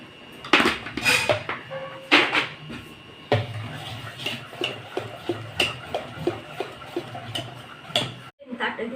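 Steel plates being picked up and set down in a home kitchen while making mango papad, a run of close metallic clanks and clatters with lighter taps, loud and irregular, with a voice speaking briefly between them.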